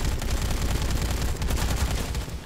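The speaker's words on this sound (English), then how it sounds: "Can I just shoot them?" Rapid gunfire in the zombie action game Dead Rising 3, a dense, loud stream of shots with heavy low-end thump and no talking.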